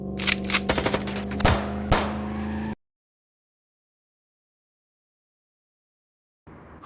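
Rapid bursts of gunfire in the video game Chicken Police, a quick string of sharp close shots over a steady tone, then abrupt silence before sound returns at the end.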